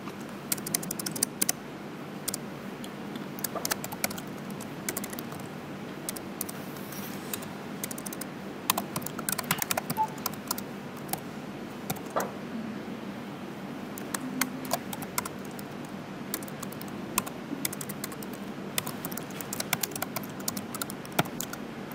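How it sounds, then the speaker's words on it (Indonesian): Typing on a computer keyboard while entering text in Microsoft Word: continuous soft key clicks in uneven bursts with brief pauses, fairly quiet and close, with no talk. "Coba kita ketik sama-sama."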